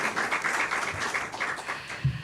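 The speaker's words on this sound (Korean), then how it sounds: "박수 부탁드립니다" Audience applause at a church forum panel discussion, a steady spread of clapping held at moderate level for a couple of seconds, with a low thump near the end.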